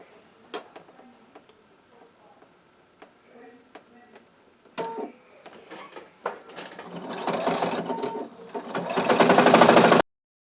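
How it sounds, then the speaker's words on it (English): A sewing machine topstitches around a fabric face mask with a nose bar, starting with scattered soft clicks and taps, then building into a steady, loud, close whirring run of rapid stitching toward the end. "let's do a quick top stitch all the way around"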